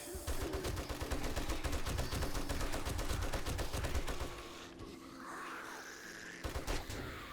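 Rapid gunfire in the video game 7 Days to Die, fast automatic bursts fired up close for about four seconds, then trailing off into quieter game ambience with a few faint clicks.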